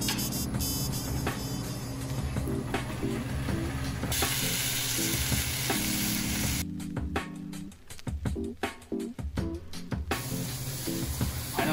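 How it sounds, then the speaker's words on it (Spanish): Beef tenderloin sears in a little oil in a hot frying pan, giving a steady, loud sizzle that runs throughout, broken near the end by a few sharper crackles and clatters. "Para cocinar la carne, primero sartén caliente y le pones un poquito de aceite nada más."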